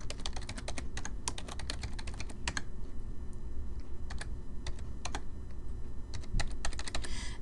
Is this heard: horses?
no